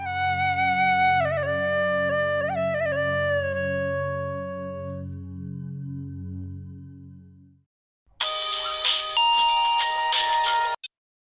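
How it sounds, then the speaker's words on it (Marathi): A phone rings with an electronic melodic ringtone in a Marathi TV serial, playing a few seconds before fading, then returning as a brighter, louder burst after a short silence. "तुझ्या डॅडींचा फोन आहे."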